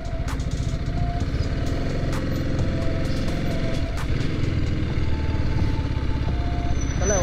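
Motorbike engine running steadily near a lake outside Chennai on an off-road stretch, a loud, close, continuous drone with constant rumble and no break throughout.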